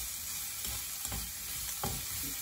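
Chicken sautéing in a pan for creamy Filipino pineapple chicken gives a steady close sizzle and hiss, broken by a few stirring scrapes and clinks, with no talking.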